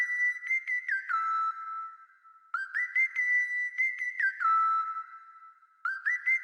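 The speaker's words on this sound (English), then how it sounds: "Now this melody comes in from Serum. The preset is the Sine Glide, also from the same all blue bank." Pure sine synth lead from the Serum Sine Glide preset, with low end cut by EQ, plays a simple catchy melody of gliding, whistle-like notes in two repeated phrases, clean and alone.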